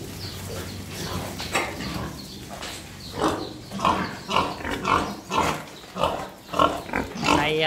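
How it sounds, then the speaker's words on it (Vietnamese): A herd of meat pigs on a Vietnamese farm raised for Tet sale grunts and squeals repeatedly at close range, rhythmic bursts of snorting building in loudness over the last few seconds. "Đây là bầy heo thịt để bán Tết."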